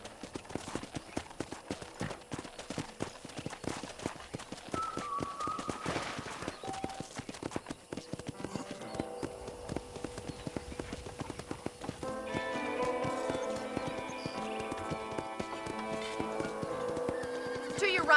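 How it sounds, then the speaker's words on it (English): Horse hooves clip-clop steadily while riding in the Western video game Red Dead Redemption, touring a ranch; a continuous rhythmic trot sits close with a brief whinny and ambient game music rising toward the end. "let's see if you can still ride a horse"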